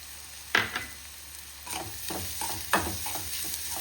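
Grated coconut and onions fry in a pan while being stirred, giving a soft sizzle under a few sharp spatula scrapes and clacks at an irregular pace.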